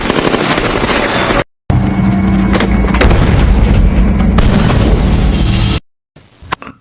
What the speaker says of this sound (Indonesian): terus memecahkan kaca dan melepaskan tembakan serta melemparkan granat asap ke bus